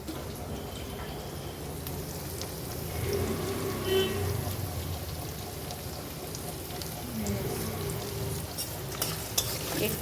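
Onions frying and being stirred in a pan for chilli chicken, a steady close sizzle with scraping stir sounds running continuously under faint background noise, no clear talk.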